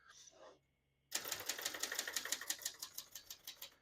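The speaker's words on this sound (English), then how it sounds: "As you can see, all the keys type nice and none of them skip or stick." Rapid clacking of keys on a 1970 Brother XL-800 portable vintage typewriter, a steady run of sharp close strikes following a brief soft sound and a pause.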